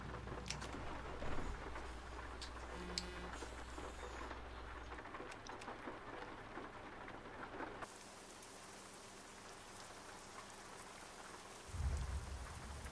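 Steady rain pours on the surface around a truck in a driving video game, with low rumbles of thunder rolling through at a moderate distance, continuous and without talk.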